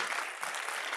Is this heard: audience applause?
yes